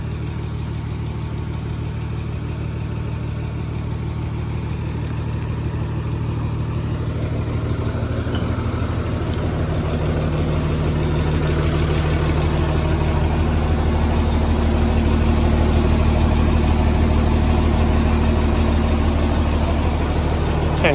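A heavy truck weighing about ten tonnes idles after standing parked a long time, its engine a loud, steady low rumble throughout with no talk.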